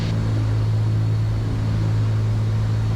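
Cessna 310Q twin piston engines droning steadily from inside the cabin during landing approach with power being reduced, a continuous low hum with no talk.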